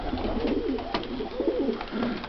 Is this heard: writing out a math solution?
no